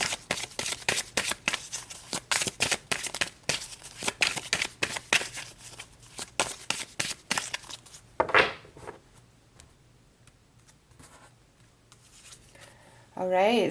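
A deck of tarot cards is shuffled by hand in rapid, crisp riffles for about eight seconds, then the rustling turns faint and sparse before a voice begins at the end.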